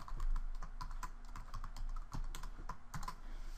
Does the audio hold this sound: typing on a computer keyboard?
yes